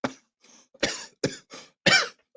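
A person coughs several times in quick, harsh bursts, close and alone, with brief gaps between.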